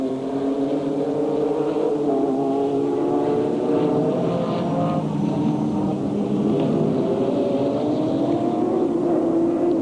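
Formula Holden race cars at Amaroo Park in 1989, the engines droning loud and continuous with rising and falling pitch as the cars pass.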